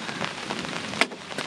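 Rain patters on a camping tarp at a campsite in front of Mount Fuji, a soft continuous spatter with a few louder drops landing close by, no talking.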